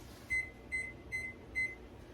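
Four faint, evenly spaced electronic beeps from an oven timer being set, each short and high, heard alone over quiet room hum.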